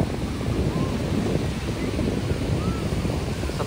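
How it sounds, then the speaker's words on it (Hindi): Strong sea waves on a Chennai beach surge as a broad continuous roar mixed with heavy wind buffeting on the microphone, steady and loud throughout without clear individual breaks. "बहुत तेज लहर है"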